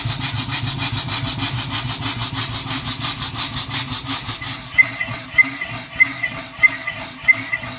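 An Ashworth & Parker steam engine driving a dynamo, a steady rhythmic chuffing beat that slows, with regular sharp clicks joining in the second half, close and unbroken by speech.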